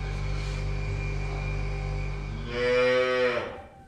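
A cow in a farm shed lets out one long, loud, close moo near the end, over a low steady hum from the building.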